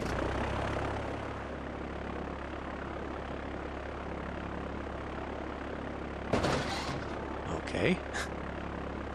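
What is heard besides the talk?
fire plane taxiing in SimCity 4 video game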